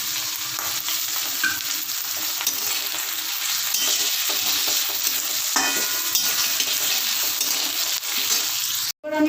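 Ginger paste and chopped tomato frying and being stirred in a hot pan, a steady close sizzle running throughout with scraping stir strokes, no voices.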